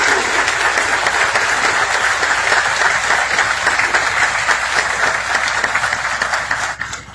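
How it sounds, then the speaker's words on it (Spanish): An audience applauds municipal police officers at a public event, a steady dense wash of clapping sustained for several seconds before tapering off at the end, with no talk. "Un aplauso para nuestros elementos que están aquí presentes."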